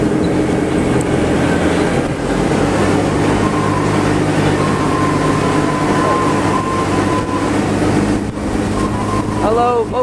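A Busch Gardens courtesy tram rolls along with a constant loud engine drone and rattling hum, a faint tone wavering in the background and a brief squeal toward the end.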